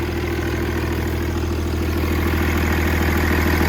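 A Ford L9000 truck's diesel engine runs with a boost leak, giving a loud, steady, close-up idling rumble with a constant low drone and rough, throbbing pulses, and no voices.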